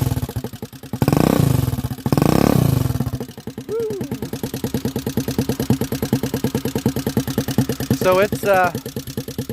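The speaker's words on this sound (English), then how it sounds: "That's what they sound like with that aftermarket pipe." A loud 2021 Icebear Maddog trike engine with an aftermarket exhaust pipe idles with a throaty, popping burble, revving twice early on, while a voice briefly speaks over it.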